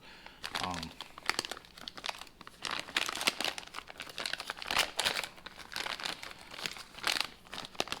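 Packaging crinkles and rustles as the box of a Novarossi BX3 nitro engine is opened, with irregular close crackling bursts and tearing throughout, and a voice briefly heard early on.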